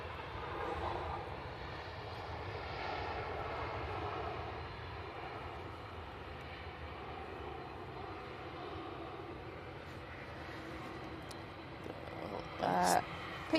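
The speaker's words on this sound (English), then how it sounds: "Floaty landing there from the Finnair" A Finnair airliner lands in a steady, broad roar of jet engines that holds evenly for the length of the clip, with a brief louder burst near the end.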